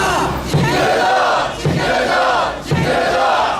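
A crowd at a candlelight rally for the social return of the Jeongsu Foundation and editorial independence at the Busan Ilbo shouts together in loud, rhythmic bursts. Three surging chant waves rise and fall close by.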